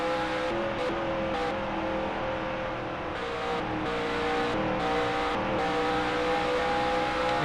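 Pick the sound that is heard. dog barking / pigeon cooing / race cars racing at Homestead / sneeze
race cars racing at Homestead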